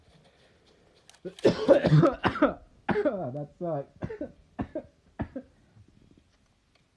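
Several harsh coughs and throat-clearing bursts come close together, mixed with a short spoken exclamation, loud and near.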